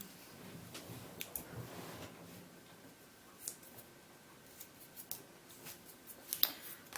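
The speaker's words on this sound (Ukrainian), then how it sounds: "Тепер беремо ножиці." Construction scissors snip through paper with soft, irregular clicks and crisp little cuts, quiet and close, with no talking.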